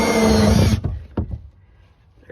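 A power drill whines steadily while boring a bolt hole in a vehicle suspension part, then cuts off, leaving a few faint knocks and clunks in a quiet room.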